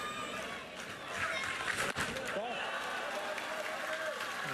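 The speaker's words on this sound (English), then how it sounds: "we still have a great crowd and a loud one at that" Crowd noise from the stands at a Little League World Series softball game, a steady wash of scattered clapping and chatter heard faintly at a distance beneath the broadcast.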